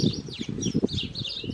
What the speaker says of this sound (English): Birds are fighting.